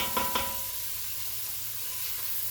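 Onion sauteing in a pan, a soft, steady sizzle with a couple of faint clinks near the start, and no talking.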